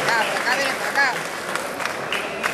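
An audience at a festive horse auction evening at a stud farm applauds with steady, dense clapping, while a voice speaks over the start.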